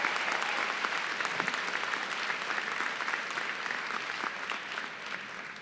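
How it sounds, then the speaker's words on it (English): Large crowd at a university winter commencement applauding social work graduates, a broad, even wash of clapping that holds steady throughout, slightly distant in a big hall. "Give them a round of applause."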